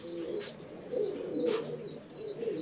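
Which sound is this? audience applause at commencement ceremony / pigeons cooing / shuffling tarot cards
pigeons cooing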